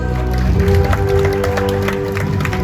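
A crowd at a September 1 event claps and cheers to welcome past games winners, steady applause over a droning hum with a faint voice mixed in.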